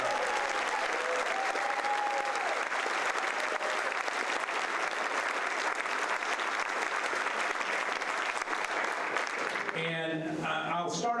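Town hall audience giving sustained applause, dense and even clapping from a large crowd, with a few words of talk fading in as it winds down.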